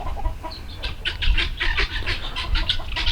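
Olive egger hens on a December farm cluck and chatter close by, a busy run of short, overlapping clucks and murmurs against a low rumbling background.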